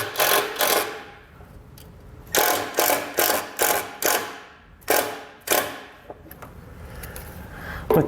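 A screw is run in to secure a Roadmaster towed-vehicle wiring kit on a 2022 vehicle, heard as several short bursts of a whirring power driver with ratcheting clicks, close by, with pauses between bursts.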